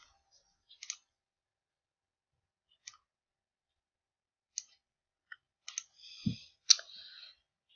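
Computer mouse clicks, sparse sharp single and double clicks scattered across quiet, faint and close, with a short soft thump and rustle near the end.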